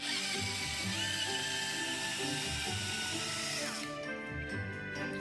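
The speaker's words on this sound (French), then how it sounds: "je vais quand même mettre un peu d'huile pour continuer de percer" A power drill bores through a metal piece from a pair of cassolettes, its bit oiled, giving a steady loud whine with a shifting pitch that steps down near the end, close up and without talk.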